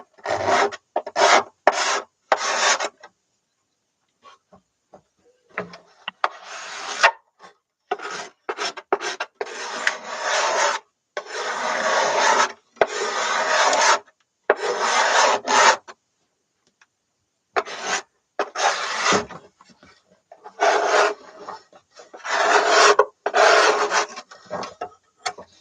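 A special curved scraper works over the arched wood of a Bohemian cello during a rebuild, making close, dry rasping strokes in bursts of several seconds separated by short pauses.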